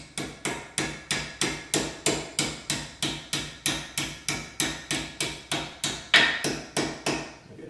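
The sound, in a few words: hammering brake pad pins in with a punch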